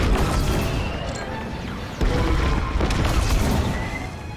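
Dense, continuous blasts and rumbling booms of laser fire as turrets are shot at in Star Wars: Squadrons, loud and unbroken throughout with heavy low-end explosions and no speech.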